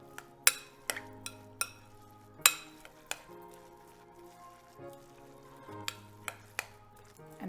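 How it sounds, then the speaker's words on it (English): Cilantro lime rice gets stirred in a bowl, the spoon knocking and clinking against the sides in irregular taps, with soft scraping between the strikes and no voices. "Mix this together."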